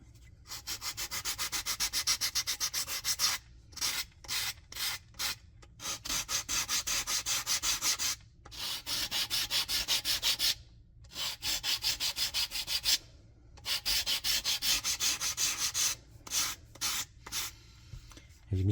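Wooden frames of a Model Shipways Muscongus Bay Lobster Smack model being faired with sandpaper, a steady close rasping in rhythmic bursts of back-and-forth strokes broken by brief pauses.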